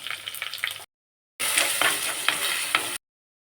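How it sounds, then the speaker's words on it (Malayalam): Curry leaves, ginger and garlic sizzle and get stirred in a hot pan for a Kerala-style mackerel curry, a bright frying hiss with spoon scrapes, broken by a short silent gap, with no talking. "ഇത് നന്നായിട്ടൊന്ന് വഴറ്റി കൊടുക്കാം"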